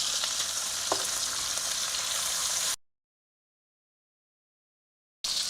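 Bacon fries in a pan with a steady, close crackling sizzle, broken by a short silent gap before the hiss resumes.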